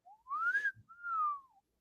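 A voice imitates a slide whistle with two long whistled glides, the first rising then dipping, the second rising and falling away, close and fairly loud with no talking.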